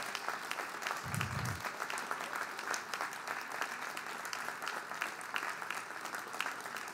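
An audience at a community college commencement ceremony applauds the graduates, a dense steady round of clapping from a large crowd that holds throughout, fairly distant in a big hall.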